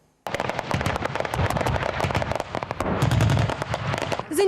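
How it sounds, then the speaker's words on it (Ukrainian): Anti-aircraft guns, RPGs and standard small arms fire during military range training for about 200 soldiers, a dense, continuous rattle of rapid sharp shots and bursts that starts abruptly and stays loud throughout. "Зенітні установки РПГ та штатна стрілецька зброя"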